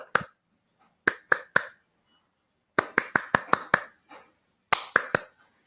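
A small group of people claps in short, uneven clusters of sharp claps with silent gaps between, nearby and distinct.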